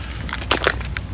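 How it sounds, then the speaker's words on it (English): A bunch of keys jangles in a quick burst of bright metallic clinks, close and fairly loud, as they are pulled out, with a faint car or road noise behind. "just gotta get my keys out."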